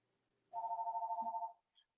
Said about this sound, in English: excuse the phone ringing in the background, I forgot to turn it off before we started